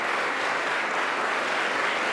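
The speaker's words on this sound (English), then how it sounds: "You clap because I'm your boss." Staff applauding at an address by the attorney general, a dense, even burst of clapping from an indoor crowd that carries on without a break.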